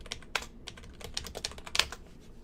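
Rapid typing on a computer keyboard, close and fairly loud, with irregular clusters of sharp key clicks and a few heavier strokes, no voices.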